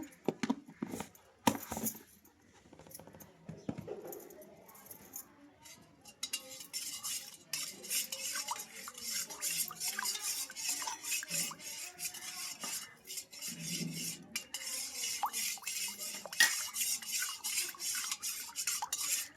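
A spoon stirs juice mixed with salt and sugar, making steady close scraping and clinking against the container. A few louder knocks open the stretch, and the stirring then runs on continuously.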